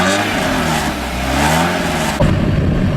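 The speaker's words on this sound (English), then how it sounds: "This is a very stock exhaust." A car engine with a stock exhaust revs close by, rising and falling in pitch, and then shifts into a rougher, louder drone.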